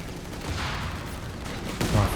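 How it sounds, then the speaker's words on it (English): Heavy machine gun fire in Company of Heroes 3 during a 4v4 tank battle, a dense continuous rattle with distant battle noise and a louder burst near the end. "Heavy machine gun."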